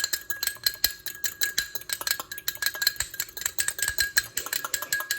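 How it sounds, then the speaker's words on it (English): An egg is whisked in a small bowl for a homemade snack, giving a quick run of light, rapid clinking taps of utensil against the dish, close and fairly quiet, with no talking. "So I'm just going to crack this egg in here. Give it a quick little whisk."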